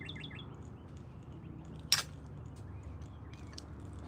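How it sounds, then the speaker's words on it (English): Faint, distant bird chirps flicker across a quiet riverside outdoor scene, with a few short high tweets and one sharper click-like sound near the middle, over low ambient background. "Where the freak is that bird?"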